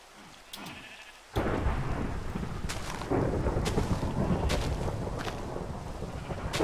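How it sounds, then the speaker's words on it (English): Thunderstorm with rain in Minecraft on the Polycraft modpack: a loud rumble of thunder breaks in suddenly and settles into steady heavy rain, with a few sheep bleats faintly in the background. "There's always the day one thunderstorm."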